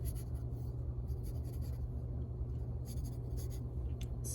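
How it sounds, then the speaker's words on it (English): Rapid zigzag scribbling marks steady, scratchy strokes as cartoon blades of grass are sketched, continuous and close, with a low background hum throughout. "I like to do blades of grass for something cartoony like this, and so I'm doing a really fast little scribble"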